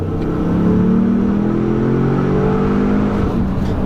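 A 2018 Ford Explorer Sport SUV accelerates hard, its engine note rising steadily in pitch under full throttle from inside the cabin, loud and continuous with no talking.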